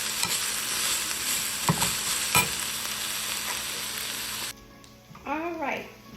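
Turkey and vegetables browning in a frying pan give a continuous hiss and sizzle with a couple of scraping stirs. The frying drops away near the end as a voice speaks briefly.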